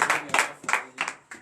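A church congregation at a morning prayer service in Benin claps in acclamation, a few short bursts of clapping in quick succession, fairly close and moderately loud.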